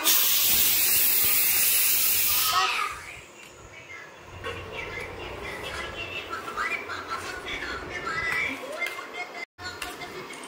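A pressure cooker holding rice blows off steam in a loud, close, continuous hiss for under three seconds, then falls silent, leaving quieter room ambience with faint bird-like chirps.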